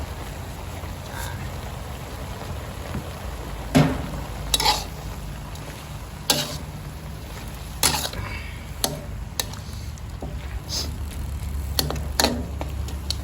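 Chinese kale and sliced pork being stir-fried in a pan, with a steady frying hiss and irregular sharp spatula clacks against the metal, close and loud, with no talk.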